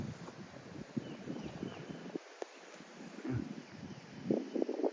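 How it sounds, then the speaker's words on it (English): Gusty spring wind buffeting a lakeside campsite in Oklahoma during a storm, uneven rumbling gusts rising and falling with faint rustling, fairly quiet overall. "Sorry about the wind. It literally just picked up quite a bit"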